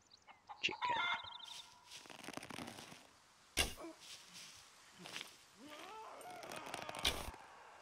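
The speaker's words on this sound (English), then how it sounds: "Chicken." Chicken clucks and squawks in the survival video game SCUM, several short sharp calls scattered amid game sounds and a thud, moderately close.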